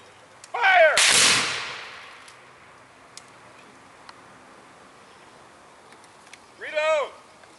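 A rifle volley fired on command at a military drill, one sharp loud crack ringing out after a shouted order, then a quiet pause before another voice calls out.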